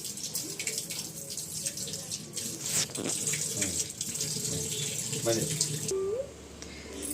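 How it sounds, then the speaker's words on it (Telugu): Water poured or splashed while washing a live chicken's feet before a home ritual offering: running, splashing water close by with some dripping and a brief clink, with people talking faintly underneath. "ఇప్పుడు కోడిని కట్ చేయడానికి కోడిని కాళ్ళు కడుక్కోవాలి"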